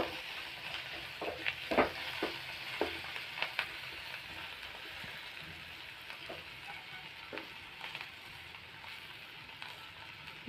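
Ivy gourd (kovakkai) sautés with salt in a pan. A soft, steady sizzle runs the whole time, broken by scattered scrapes and taps of stirring, quieter toward the end.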